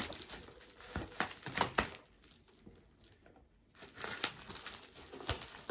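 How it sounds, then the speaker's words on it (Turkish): Crinkling and tearing of packaging material as a package is cut open with scissors, in bursts, with a quieter pause in the middle before rustling resumes, close by. "Şimdi tabii makasla şöyle keselim."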